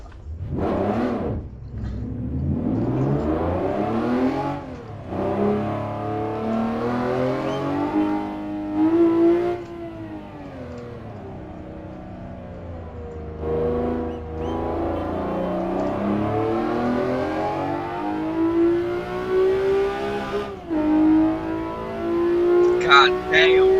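Race car engine in Assetto Corsa revving and accelerating through gear changes, rising and falling pitch in repeated pulls, with a person talking over it intermittently.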